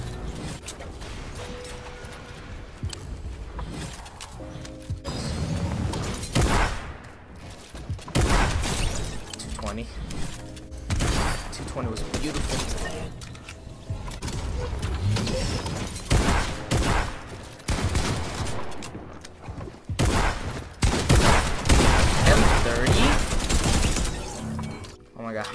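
Gunfire in a video game: repeated bursts of shots and sharp impact and shattering sounds through a long stretch of chaotic fighting, under and between frequent excited talking.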